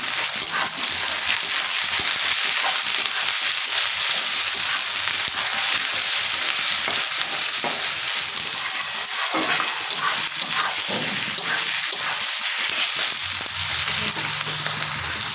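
Chopped onions sizzle steadily in hot oil in a pan while being stirred, a constant bright frying hiss with occasional scraping strokes and no talking.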